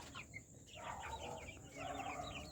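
Newly hatched Brahma chicken chicks peep in a backyard brooder, a busy flurry of thin, high chirps overlapping close by above a steady low background hum.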